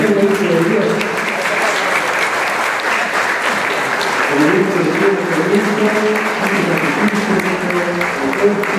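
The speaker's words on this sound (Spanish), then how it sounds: "damos un fuerte, fuerte aplauso a este nuevo hijo de Dios" A congregation at a baptism ceremony in a church gives loud, sustained applause for a newly baptized child, dense clapping filling the room steadily with murmuring voices mixed underneath.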